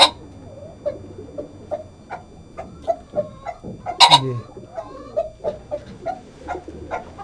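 Chickens clucking in short, scattered bursts nearby, with one louder squawk partway through amid rustling background noise.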